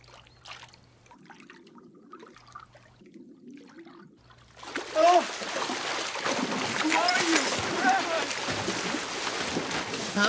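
Merman splashing and sloshing water indoors, a burst of splatters and trickling that starts abruptly after quieter moments of speech and continues busily to the end.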